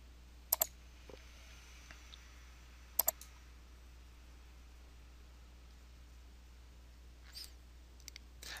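Computer mouse clicks while working in Excel 2010: two quick double clicks, with a few fainter single clicks and taps later, all close and quiet over a steady low hum.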